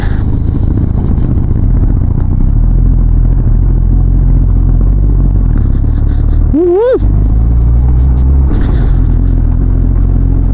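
A 2015 Royal Enfield Classic 350 motorcycle climbing toward Umling La pass in snowy high-altitude terrain, a steady low engine rumble running throughout, with a brief rising whine or horn-like tone midway.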